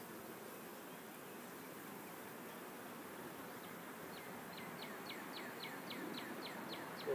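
Honey bees hum steadily around an open hive frame as burr comb is cleared from the top frame, a soft continuous buzz with a faint chirping series rising near the end.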